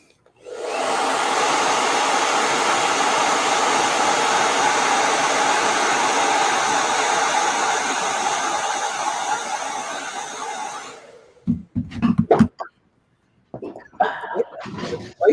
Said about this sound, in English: Hit that with a blow dryer.